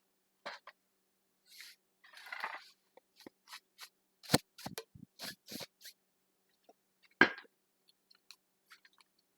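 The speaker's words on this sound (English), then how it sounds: "we'll get right into the shuffle of the cards" Tarot cards shuffled by hand in a quiet room, soft intermittent riffling and slapping bursts separated by short silences, close and fairly faint.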